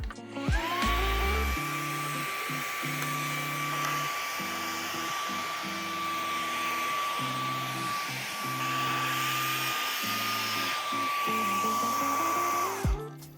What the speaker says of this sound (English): You can also suck air for vacuum purposes.